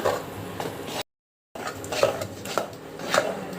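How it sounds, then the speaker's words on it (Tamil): Thick ragi flour dough is stirred in a pot, making repeated close scraping knocks of a spoon against the pot in an uneven rhythm, with one short silent break. "மாவு சேர்த்ததுக்கப்புறம் நல்லா கலந்து கொடுங்க"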